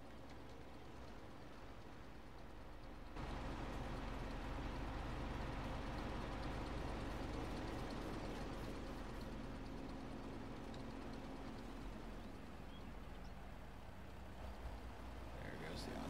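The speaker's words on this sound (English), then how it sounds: "I'll get the tractor fired up." A farm tractor's engine starts about three seconds in and keeps running at a steady, loud, low rumble, with a broadband drone that continues unchanged to the end.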